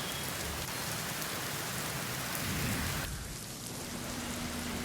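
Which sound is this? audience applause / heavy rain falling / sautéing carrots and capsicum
heavy rain falling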